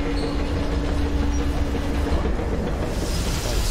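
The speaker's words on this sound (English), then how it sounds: "Attention! The turntable is switching on." A railway turntable in the Metro Exodus game switches on with a steady, loud mechanical rumble and hiss, like rail machinery, running continuously without a break.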